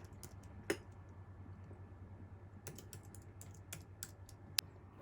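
Someone types a password into a computer keyboard, giving a few quiet, scattered key clicks with sharper taps among them over a low steady hum, no voices.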